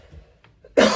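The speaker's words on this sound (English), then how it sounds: "Cough time." A single sharp, loud cough bursts out at a rest stop near the end after a stretch of near silence, close to the listener.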